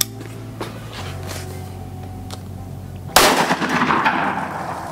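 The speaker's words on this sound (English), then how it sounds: "Just shoot at those trees right there. Shoot at the base of the base of the trees." A single loud gunshot cracks partway through, fired at the bases of trees during a hog hunt outdoors, following a quiet stretch and leaving a short rumbling echo.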